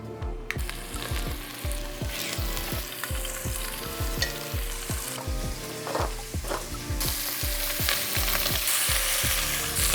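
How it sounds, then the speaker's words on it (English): Pork sears in a lightly oiled Dutch oven with a continuous hiss of hot fat. A rhythmic series of quick scraping strokes from turning the meat runs throughout, close by and steady. "You want to sear it on all sides"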